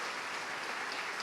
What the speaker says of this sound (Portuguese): pode aplaudir o Senhor. Pode aplaudir, aleluia.